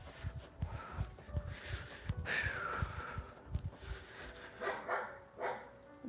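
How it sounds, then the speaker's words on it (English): A neighbor's black Labrador barking close by, several deep barks in an uneven rhythm, then a few higher yips and whimpers toward the end. "That's a neighbor's dog."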